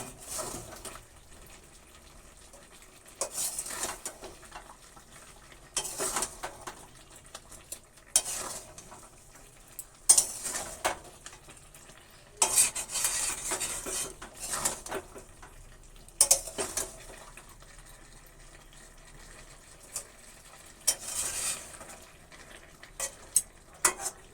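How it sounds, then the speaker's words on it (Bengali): Chicken curry stirred in a pot over the stove, with bursts of spoon scraping and sizzling at irregular intervals between quieter stretches of low simmering, close and moderately loud. "আবারও নেড়ে দেবো"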